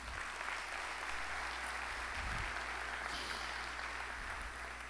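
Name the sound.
audience applause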